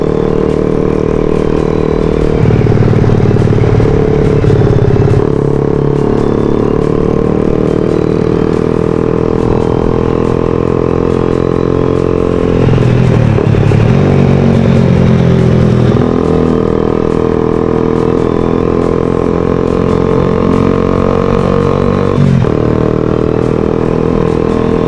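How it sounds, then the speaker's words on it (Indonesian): A motorcycle exhaust sounds thin and tinny after its filter came off, running as a steady engine drone with a little clatter for the whole stretch, close and fairly loud, with no voices. "Jadi kelihatannya tuh nih si knalpotnya jadi kayak cempreng."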